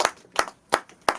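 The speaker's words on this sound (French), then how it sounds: "Donc, on applaudit quand même." Four separate sharp claps from children, evenly spaced and fairly close, quiet and brief, with no talking between them.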